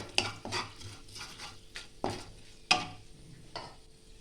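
Whole spices such as cinnamon, cardamom, cloves and a pinch of asafoetida frying in a pan, with a few sharp clinks of a utensil over a faint sizzle, quiet and close.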